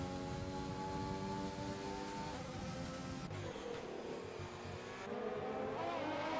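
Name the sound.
race cars in the video game F1 2020, Mercedes braking late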